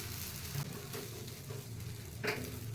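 Aloo paratha, a potato-stuffed flatbread, frying on a hot pan with a steady close sizzle and occasional brief crackles and pops, no voices.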